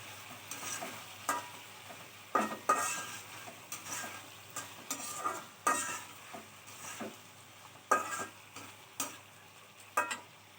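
Chicken fries in a pan before ash gourd goes in, with a steady soft sizzle under repeated close scraping strokes of a stirring spatula.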